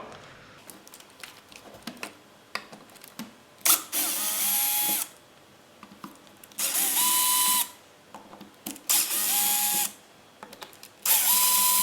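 A cordless drill with a ratcheting clutch backs out four screws from a Wave Shaper KP0800 surfboard planer, loud whirring bursts alternating with clicks and handling noises close to the microphone.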